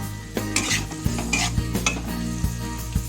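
Onion, capsicum and garlic fry in a pan over a medium gas flame. A steady sizzle is broken by repeated scrapes and clinks of stirring, heard close with no voices.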